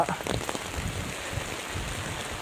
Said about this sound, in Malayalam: നല്ല ഒന്നാന്തരം മഴ